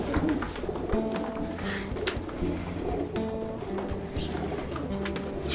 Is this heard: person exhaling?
no